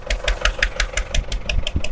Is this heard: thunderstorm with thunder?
no